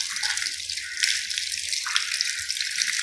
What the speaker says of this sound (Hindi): इस तरह अच्छी तरह से अपने हाथ धोने हैं यहाँ तक।